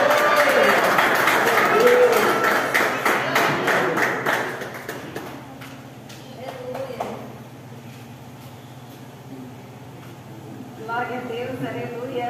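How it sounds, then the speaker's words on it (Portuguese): A church congregation applauding for a woman evangelist, a crowd's clapping loud for the first few seconds and then fading to sparse taps, with voices rising again at the end. "vamos receber ela com palmas para Deus"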